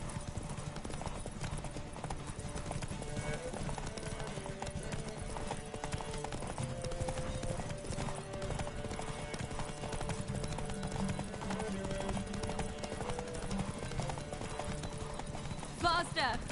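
Roach the horse gallops in Witcher 3, steady clip-clop of hooves running continuously throughout, close and clear, with game music and voices underneath and a brief whinny near the end.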